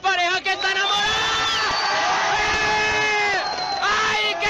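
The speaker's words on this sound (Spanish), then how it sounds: "¡Aplauso para esta pareja que está enamorada!" A crowd whoops and cheers loudly with sustained shouting voices rising and falling, close and energetic; clapping is not distinct.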